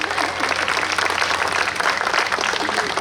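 Steady, dense applause from a large audience at a New York State Police canine and bomb disposal unit demonstration, loud and continuous throughout without letup.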